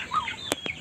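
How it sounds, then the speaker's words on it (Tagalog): A chicken gives a brief cluck with two short, sharp sounds close by, over a soft outdoor background on a mountain farm with ducks nearby. "Ang dami nilang mga pato. Tsaka manok."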